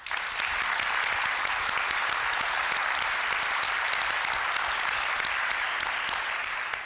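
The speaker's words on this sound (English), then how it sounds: "Those who believe yes, please applaud." Town hall audience on PTSD applauds in a dense, steady burst of many hands clapping, even and sustained for several seconds with no talk over it.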